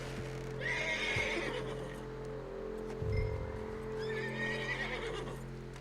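A horse in the video game Red Dead Redemption 2 gives two close, loud whinnies, with a few dull hoof thuds on the ground between them.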